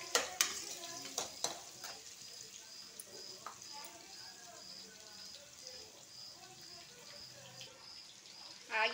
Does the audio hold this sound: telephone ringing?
no